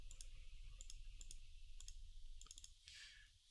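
Quick, crisp computer mouse clicks during a Magic: The Gathering Online match, arriving in small irregular clusters and doubled taps, fairly close and quiet over a faint steady background hum.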